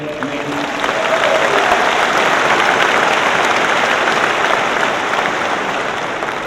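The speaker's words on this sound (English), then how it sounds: "how about a round of applause for all the student performers today?" A large audience at the Old Bridge High School graduation in 2019 applauds the student performers, with thick, sustained clapping that rises after the first second and holds steady, loud and close.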